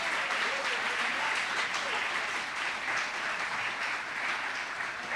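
A church congregation gives sustained applause, a dense, even wash of clapping over the whole stretch, with voices faintly underneath.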